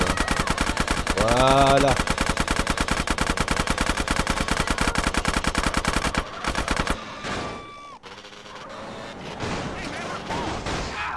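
Rapid automatic gunfire from GTA San Andreas Definitive Edition, a dense loud burst of shots lasting about six seconds, then a pause with a short whooshing game effect, while someone speaks briefly in French.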